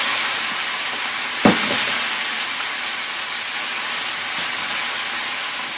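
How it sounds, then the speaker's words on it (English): Spices and basil sizzling in a pan at home, a steady bright frying hiss that holds throughout, broken once by a brief sharp clatter near the start. "You can see it starting to"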